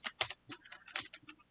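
Quick, uneven keystrokes on a computer keyboard while filling in a spreadsheet, including presses of the Tab key; about a dozen close, crisp clicks in short bursts with no voices.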